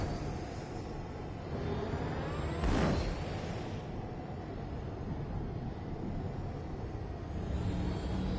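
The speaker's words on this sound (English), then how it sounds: "The boost is loud on a spaceship just like it's loud on a car" A spaceship boost in the Fortnite video game: a continuous low, engine-like roar at modest level, swelling into one brief whooshing surge early on before settling back to a steady drone.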